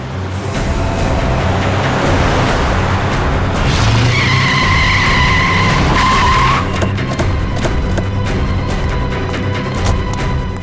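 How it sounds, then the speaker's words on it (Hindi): A car driven hard in a chase, with a loud, continuous engine roar and a sustained, high tire squeal as it skids, close and dominant with no talking over it. "गाड़ी भगा भगा के वो जाएगी कहाँ?"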